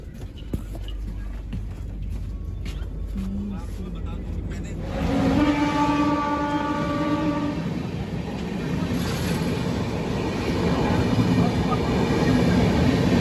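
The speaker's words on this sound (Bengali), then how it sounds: "SMBT Howrah express, superfast express আমাদের ট্রেনে ছেড়ে দিয়েছে।" An SMVT–Howrah superfast express rushes past alongside a halted train with a loud, continuous rumble of wheels and carriages, and a sustained horn blast rises midway over the roar.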